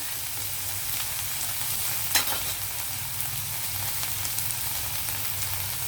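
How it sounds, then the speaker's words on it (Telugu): Ginger garlic paste fries in a pan with a steady, even sizzle and a single brief sharper crackle partway through, close and continuous, with no speech. "కొంచెం అల్లం వెల్లుల్లి పేస్ట్ వేసి ఈ పచ్చివాసన పోయే వరకు ఇది ఇలాగా వేగనివ్వాలి"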